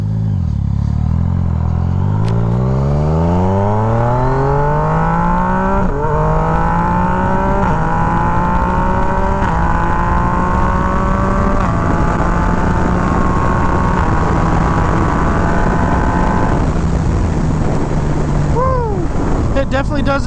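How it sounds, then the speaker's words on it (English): A 2019 Yamaha MT-09 motorcycle with a GYTR quick shifter pulls away from a stop, its engine note climbing through several quick upshifts with brief dips between gears, loud and close, with heavy wind noise as speed builds. "go from a stop so I can check out this quick shifter"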